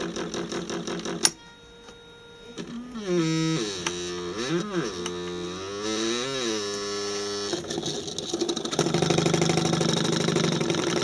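A small synchronous motor runs with a steady mechanical hum and whine. Its pitch rises and wavers through the middle before settling into a constant buzzing drone, close and even.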